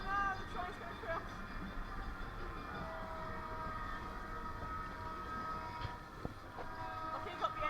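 A ghost train dark ride rolls along its track through a tunnel at Blackpool Pleasure Beach, a steady rumbling clatter with faint whistles and effects over it, and occasional voices in the background.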